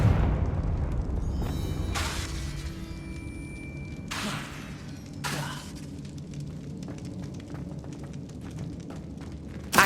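Confringo spell blasts in Hogwarts Legacy: several sharp explosive bursts hit loud and close, followed by crackling, shattering debris and rumbling decay, with a final burst at the very end.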